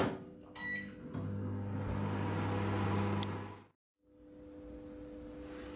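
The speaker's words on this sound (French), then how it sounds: "Et on est parti pour une cuisson au micro-ondes pour à peu près 3 minutes." Microwave oven running while cooking apples, a steady low hum with a few beeps and a door clunk at the start, then a brief pause before the hum resumes; no voices.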